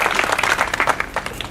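Outdoor ceremony crowd at a mural dedication giving a round of applause, dense and loud hand clapping that holds steady for the whole moment with no voices on top.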